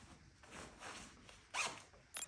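A jacket pocket zipper with a Hypalon zip pull is zipped closed in a quick, faint, close zip, ending in a brief sharper rasp. No one speaks over it.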